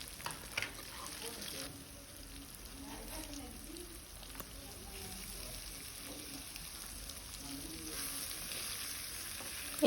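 Potatoes and tomatoes fry in oil with bay leaf, dried chilli, onion and cumin for a banana flower dish, giving a steady soft sizzle throughout, faint and continuous with a few small stirring knocks.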